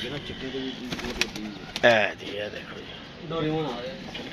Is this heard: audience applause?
no